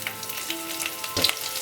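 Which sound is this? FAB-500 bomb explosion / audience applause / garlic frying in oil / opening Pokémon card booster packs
garlic frying in oil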